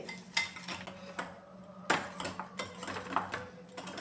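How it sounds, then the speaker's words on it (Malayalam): Biscuits being mashed in a pot with a whisk or spoon for aval milk, producing quiet, close, irregular metallic taps and scrapes with no talk. "ഇതുപോലെ വിസ്ക് സ്പൂൺ വെച്ചോ ഉടച്ചെടുത്താൽ മതിയേ"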